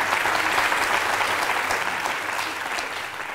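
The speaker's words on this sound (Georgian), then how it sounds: "აპლოდისმენტები მარიამს, 14 სწორი პასუხი" Audience in a school quiz competition breaks into sustained applause for a contestant, a dense steady clatter of many hands clapping at close range throughout.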